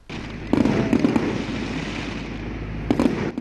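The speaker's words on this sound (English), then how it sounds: "Cultural performances were capped off with a spectacular fireworks display." Fireworks display celebrating Chinese New Year in Dunedin, bursting outdoors in a fairly continuous crackling barrage with sharper bangs at the start and again near the end, fairly close and loud.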